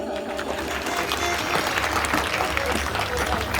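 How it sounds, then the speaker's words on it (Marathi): A crowd at a live folk performance applauds a singer, its dense clapping swelling into sustained loud applause, with voices talking underneath. "जॉली रतनसाठी जोरदार टाळ्या"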